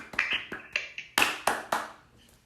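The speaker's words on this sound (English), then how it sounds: "Just clap for my kids. Clap loudly, please, guys." Kids clapping at a Republic Day school event: about eight sharp, separate hand claps in an uneven rhythm that fade at the end, with no voices.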